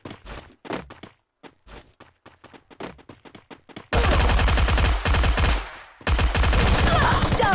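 Gunfire in the Free Fire Max mobile game from a powerful gun. Sparse, distinct single shots are followed by dense, very loud sustained automatic bursts that pause briefly and then resume.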